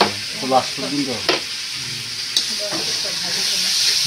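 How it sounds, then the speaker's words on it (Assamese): Onions sizzle and hiss steadily in hot oil while a spoon scrapes and stirs the pan, with a voice talking over the frying. "অলপমান পিয়াজখিনি ভাজা হৈ গ'ল বঢ়িয়াকৈ"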